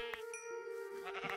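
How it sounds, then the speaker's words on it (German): A sheep in the video game Minecraft bleats once, a close, clear, wavering call with no talk over it. "Schaf."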